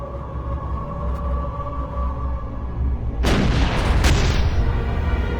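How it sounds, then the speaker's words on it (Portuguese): Artillery fires at short range into cave openings during the battle on Peleliu: a low rumbling bed gives way to a sudden loud boom, followed shortly by a second blast and a rolling, crackling aftermath, with no voices. "A artilharia, estrategicamente posicionada, disparava a curta distância nas aberturas das cavernas."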